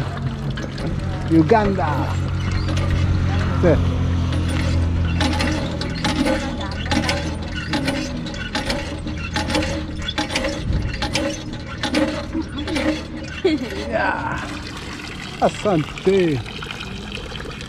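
Water pouring into a bottle from a tap in Uganda, a gurgling trickle running under a voice, with metallic clinks and a rising fill near the end.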